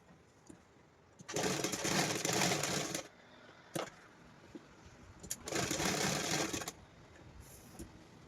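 A sewing machine stitching pant fabric runs in two bursts of rapid, close whirring and clattering, each lasting about two seconds, with quieter handling noises and short clicks between them.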